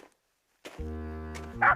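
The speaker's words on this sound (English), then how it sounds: "he saw Snuffy barking at a red balloon high up in a tree" A cartoon dog barks at a red balloon caught high in a tree: a drawn-out tonal yelp, then a sharper bark near the end, close and alone.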